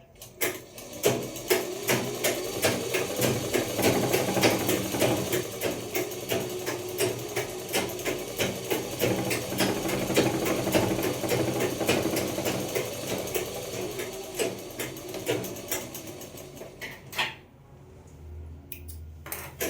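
A sewing machine stitches pajama fabric with a rapid, rattling clatter of needle strokes that is close and steady, with slight surges in pace before it slows and stops near the end.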